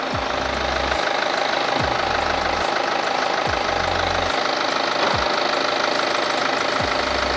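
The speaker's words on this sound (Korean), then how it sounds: "엔진 소리 일정하고 좋습니다" A BMW X3 xDrive 20d diesel engine idles steadily with a loud, continuous mechanical drone and a regular low knocking pulse, heard up close in the engine bay with no voices.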